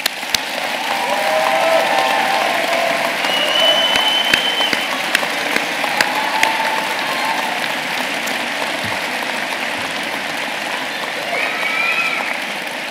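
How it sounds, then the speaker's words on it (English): Warm, sustained audience applause fills a university graduation ceremony hall, a dense steady wash of many hands clapping close to the microphone that holds for the full stretch with a few sharper claps poking through and faint voices mingled in the crowd. "applause."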